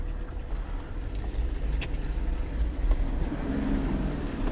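An Ineos Grenadier 2022 4x4 crawls slowly over an axle-twist crossing, a low steady engine rumble with faint creaks and knocks, moderately loud throughout and no talk.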